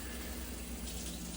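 Water running steadily from a tap to fill a container, a continuous close, even rushing hiss with no talking over it.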